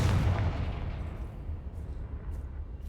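A Confringo fire spell explodes in Hogwarts Legacy with one loud, deep booming burst that rolls off into a long fading rumble and crackle.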